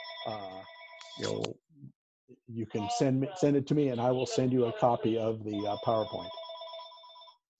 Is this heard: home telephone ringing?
yes